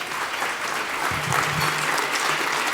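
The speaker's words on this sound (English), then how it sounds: "Let's give him a round of applause, everybody" A breakfast-event audience applauds a sponsor representative from the law firm Taft, a full, sustained round of clapping at steady volume, with a faint voice briefly under it.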